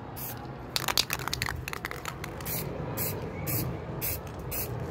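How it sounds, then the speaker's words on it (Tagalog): Aerosol spray can applying paint to a cleaned Mio i 125 magneto, heard as repeated short hissing bursts, near and fairly loud, with faint background noise between them. "Palayo lang yung spray nyo para hindi mamuo."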